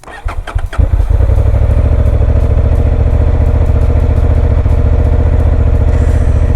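A Honda CB750 Hornet motorcycle cranks briefly, catches and starts, then settles into a loud, steady, close idle with an even throbbing pulse.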